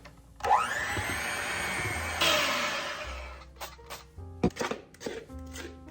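Cake batter of mix, milk and oil being whirred by an electric mixer for a few seconds, a steady motor drone that cuts off into clattering knocks and bowl handling.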